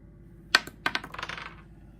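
Dice tumbling and clattering on a table in the board game Expedition: The Horror, one hard hit followed by a quick run of rattling bounces that settles within about a second, close and clear.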